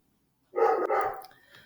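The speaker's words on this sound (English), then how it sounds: "my dog is barking" A dog gives a single close bark that trails off into a short whine, heard indoors in a quiet room.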